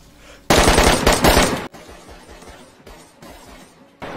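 DayZ game gunfire: a loud rapid burst of automatic shots rings out close by, then a few sharper single shots follow over quieter background.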